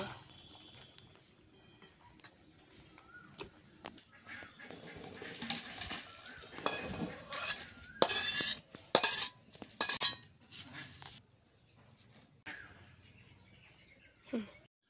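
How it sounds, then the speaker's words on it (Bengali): A pot of boiled snake gourd is lifted off a kitchen stove with a cluster of loud metallic clinks and clatters, preceded by softer scattered taps and quiet background noise. "চিচিংয়ে সিদ্ধ হয়ে গেছে, আমি নামিয়ে নেব।"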